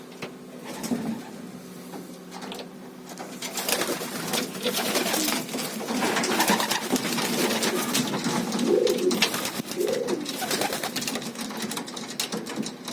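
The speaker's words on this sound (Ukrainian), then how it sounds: "хочу трішки показати голуби, як ми зимуємо, самці" Pigeons cooing in a steady, overlapping chorus of low throaty calls in winter quarters, with some rustling and indoor background noise throughout.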